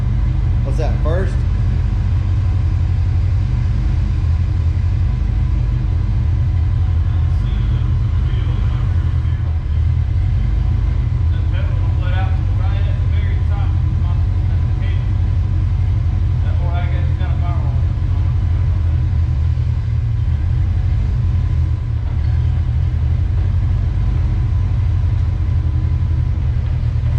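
Someone's car, an Arctic Fox with a freshly swapped T5 gearbox, runs with a steady low engine rumble up close, while people talk briefly over it.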